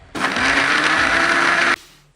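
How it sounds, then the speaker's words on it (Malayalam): A mixer grinder whirs loudly and steadily as it blends a green apple drink, running for about a second and a half before cutting off abruptly, with no talking. "ഇത് മിക്സി വെച്ച് നമുക്കൊന്ന് അടിച്ചെടുക്കാം."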